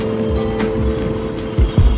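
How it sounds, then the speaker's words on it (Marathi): A Volkswagen Polo passes a motorcycle on a night ride, heard from inside the rider's helmet: a steady engine and wind drone with a low rumbling swell as the car goes by near the end. "मागून एक पोलो येते जाते, एकचा आवाज मला इथं आतमध्ये ऐकायला येतो"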